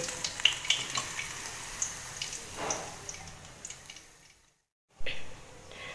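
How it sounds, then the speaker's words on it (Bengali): Katla fish pieces frying lightly in oil make a steady soft sizzle with faint crackles, broken by a brief moment of silence before the frying resumes. "তো এরকমভাবেই বাকি মাছগুলো সব ভেজে নেব"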